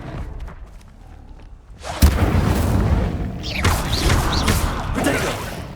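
A blast from the Incendio fire spell in Hogwarts Legacy erupts suddenly after a quieter stretch, followed by a sustained roaring, crackling rush with further whooshing bursts.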